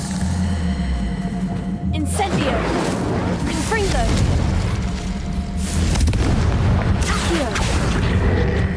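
Spell blasts from Incendio and Confringo in the Hogwarts Legacy video game, several booming bursts over a dense, constant game soundscape with music, while a voice calls out in between.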